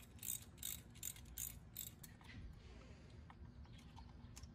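A 13 mm socket ratchet clicks in short bursts while loosening a fuel pump bolt on a 2017 Camaro SS with a Procharger install, quiet and close, several quick rattling pulses followed by fainter scattered clicks.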